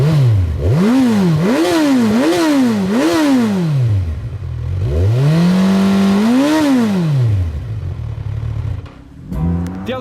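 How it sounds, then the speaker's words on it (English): A Kawasaki Z1000 inline-four motorcycle on standard exhaust pipes revs loud and close, with several quick rising-and-falling blips followed by a longer, higher rev that swells and then drops back to idle. "This does have an awesome sounding engine. That inline-4 really does sound mega."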